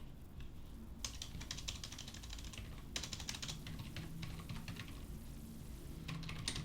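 Keys clatter on a computer keyboard while text is entered into an Excel spreadsheet. The taps come in quick bursts with short pauses between them. They are close and fairly soft, and no one speaks.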